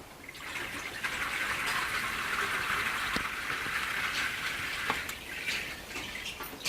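Water poured from a handled container in an early years classroom activity to imitate rain, a steady splashing trickle with a few sharper drips, close and continuous, with no talking.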